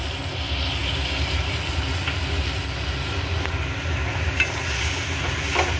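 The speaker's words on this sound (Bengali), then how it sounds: "এইভাবে লো ফ্লেমে আস্তে আস্তে এইভাবে মেলাবেন, দেখবেন মিহি হয়ে যাচ্ছে।" A sweet mung dal mixture is slowly stirred in a pan over a low flame, a continuous close scraping and soft sizzle with faint occasional ticks of the spoon against the pan.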